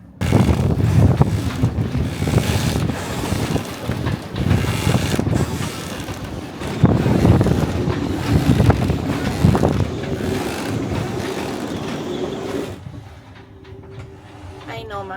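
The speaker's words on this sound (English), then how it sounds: "I'm sure that gusts were almost 50 knots of wind." Strong, blustery wind gusting near 50 knots at sea on a sailboat roars and buffets the microphone in surges, with rushing noise over water and occasional creaks, then drops sharply near the end.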